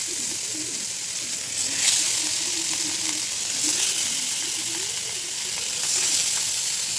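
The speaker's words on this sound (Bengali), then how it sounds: "আমি গরম তেলে ইলিশ মাছগুলো দিয়ে দিচ্ছি।" Hilsa fish pieces frying in a pan of hot oil, giving a steady close sizzle with soft crackles and brief bursts that swell near the middle and end.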